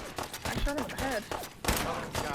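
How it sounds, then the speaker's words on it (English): Gunshots ring out in Fallout 4, several sharp bursts over low game sounds, with a brief voice-like tonal sound mixed in between the shots. "I shot him in the head"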